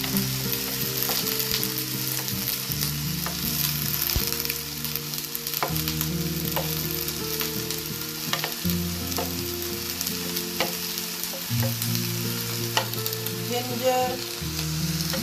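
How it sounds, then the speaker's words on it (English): Green chili and tomatoes fry with bitter gourd and onion in a hot pan, giving a steady loud sizzle over about fifteen seconds with repeated stirring scrapes and clatters, no speech. "Now I'm going to put the green chili, the tomatoes"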